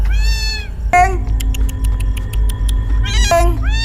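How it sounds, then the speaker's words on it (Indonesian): A black cat meows close by in a run of clear, rising and falling cries, one at the start and another near the end, with a brief squeal and a faint steady tone in between over low background rumble. "Suara meongnya masih terdengar dekat."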